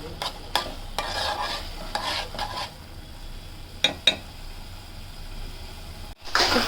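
A spoon stirs and scrapes thickening jackfruit halwa as it fries in a pan, giving soft, quiet rasping strokes in short bursts with pauses between them and no voices.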